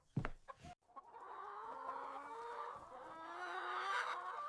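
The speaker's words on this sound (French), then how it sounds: "Saleté de coq, arrête de m'attaquer" Rooster on a farm clucking and crowing in a drawn-out call, with short sharp noises at the start and the bird's voice rising and falling alone for several seconds.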